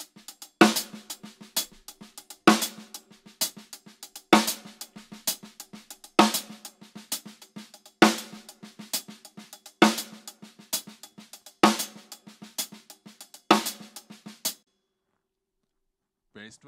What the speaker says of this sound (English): The right hand is on the hi-hat, but the left hand now goes on the snare.